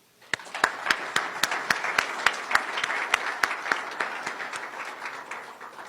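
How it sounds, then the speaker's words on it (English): An audience claps in a steady, even rhythm of loud, distinct hand claps that carries on throughout, with faint voices underneath. "Please help me give them a round of applause"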